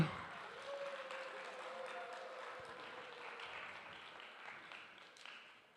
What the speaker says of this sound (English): Yeah, you could clap for that.